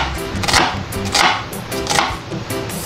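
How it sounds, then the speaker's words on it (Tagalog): A knife cuts an onion on a board in rhythmic bursts of about four slicing strokes, close and fairly loud, with no talk. "iwain lang natin itong sibuyas"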